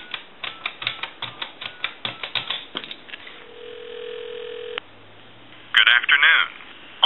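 A rapid, even series of dialing clicks on a Western Electric Princess telephone calling a time-and-temperature line, then a steady line tone and a brief burst of recorded voice at the end.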